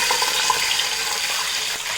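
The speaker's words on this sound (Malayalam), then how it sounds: "ഇതിലേക്ക് നമുക്ക് അരി വേകാൻ ആവശ്യമായ വെള്ളം ഒഴിച്ചു കൊടുക്കാം" Water being poured into a cooking pot of rice for chicken biryani, a steady splashing flow running close and fairly loud throughout the short stretch with no talk.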